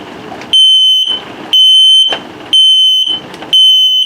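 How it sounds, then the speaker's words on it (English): An LP and carbon monoxide detector in a 2022 Starcraft Autumn Ridge 19BH RV runs its alarm test, giving four loud, piercing, one-second beeps in a steady rhythm with short gaps between them. "If it beeps the same tone but very slowly, it's telling you your battery's low, so it's a low battery alarm also."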